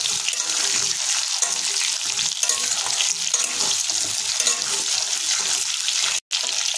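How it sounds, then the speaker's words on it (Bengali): Raw banana and potato frying in a kadai with tomato, onion and ginger paste, a loud, dense, continuous sizzle with stirring, close to the pan and without talk. "এভাবে এটাকে আমরা কড়াইতে মিনিট 5 ধরে ভাজা করে নেব।"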